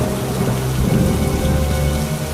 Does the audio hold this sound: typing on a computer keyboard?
no